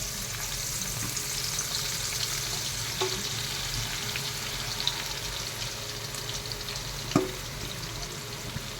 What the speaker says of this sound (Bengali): তেল গরম করেছি, পেঁয়াজ লঙ্কা দেব।